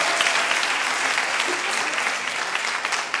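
Indoor audience at a business opportunity meeting bursting into loud, dense applause, a steady wash of clapping hands that holds throughout with no pause.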